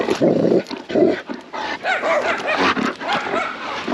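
A German Shepherd, highly reactive, gives a loud, close, low rumbling growl that rises in several throaty bursts, rough and sustained, with short pauses between.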